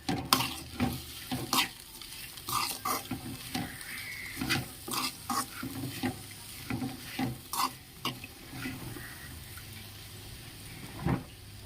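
Drumstick-leaf dal frying in a pot as turmeric is stirred in, a string of sharp spoon scrapes and taps against the pan over a soft continuous sizzle, heard alone without talk.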